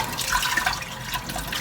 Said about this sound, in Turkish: Dur patatesi yıkayayım.